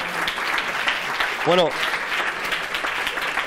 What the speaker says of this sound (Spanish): un aplauso para Álvaro, sí señor